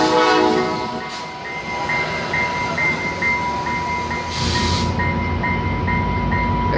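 A train rumbles past close by, wheels clattering steadily, while its horn sounds a sustained tone with a short blast near the start and another later.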